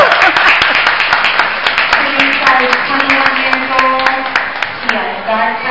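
Audience at a 2012 Michigan beauty pageant claps steadily for the newly crowned queen, dense sustained applause of many hands with a voice speaking over it throughout.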